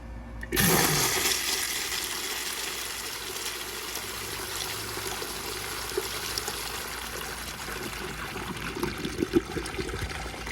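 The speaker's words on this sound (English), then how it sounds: "a close-up flush just for the water to show up." A Universal Rundle Colburn urinal flushes through its flushometer up close: a sharp valve release opens into a loud continuous rush of water that trickles steadily on for several seconds.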